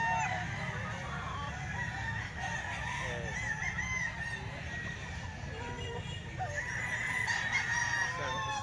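Chickens offered for sale at a busy market cluck and squawk continuously, with a rooster crowing, all mixed over a low crowd murmur and background voices.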